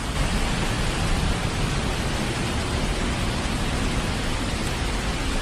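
Heavy monsoon rain pours during a picnic outing at Debakunda in Odisha, a dense, unbroken hiss that stays loud and even throughout with no voices.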